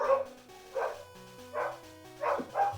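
Dog barking, four short, close woofs spaced in an uneven rhythm over a soft background of low tonal music.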